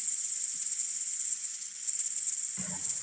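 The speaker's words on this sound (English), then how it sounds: "there's a lot of crickets and birds chirping in the background" Crickets shrill in a constant high, steady drone in the Rajasthan countryside, with little else beyond a soft thump near the end.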